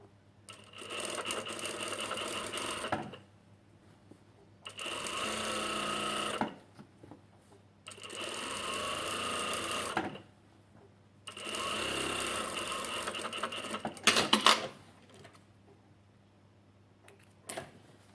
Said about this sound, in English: So we've top stitched our neck.